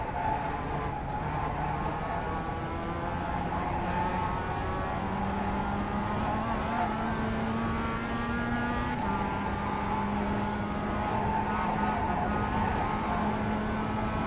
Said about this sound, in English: I'm not used to this MX-5.